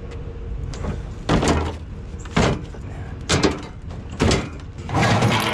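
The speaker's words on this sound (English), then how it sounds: "we take these drawers out" Drawers pulled out of a discarded curbside piece of furniture, five loud sliding scrapes and thuds spaced about a second apart, close by and without talk.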